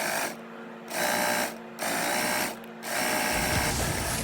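A sewing machine stitches a corset lining with top stitching, its steady rapid whir running in three bursts separated by brief pauses, close and loud, with no voices.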